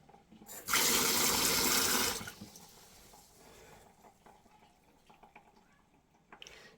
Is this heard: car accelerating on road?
no